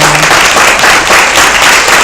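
Audience applause at a women's empowerment session, loud, close and continuous clapping filling the short stretch without pause.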